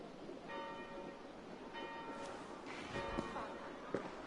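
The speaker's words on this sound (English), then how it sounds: "Do you not hear the bells?" Chapel bells ringing at an abbey in the video game Assassin's Creed Valhalla, repeated tolling strikes heard faintly at a distance under a steady ambient background.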